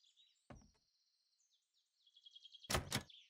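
A locked door being tried in the survival game 7 Days to Die: a sharp rattling knock, a short pause, then a louder double thud of the handle against the frame, heard alone over a thin synthetic whine.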